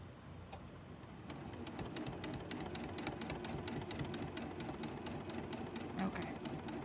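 A sewing machine stitches binding onto a quilted tree skirt, its needle hammering in a fast, even rhythm that stays close and steady from start to finish.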